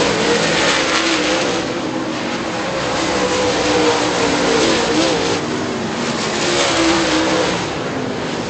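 Race cars roar around a short speedway oval, engines howling loudly and continuously as they pass down the back straightaway, with a race announcer talking over the din.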